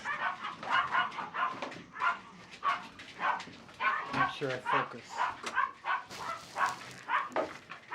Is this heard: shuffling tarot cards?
no